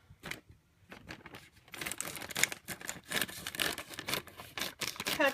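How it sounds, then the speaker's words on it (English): Scissors snip and crinkle through a plastic bag of potatoes, with rapid irregular cutting and rustling sounds close by, no voices. "Use some scissors."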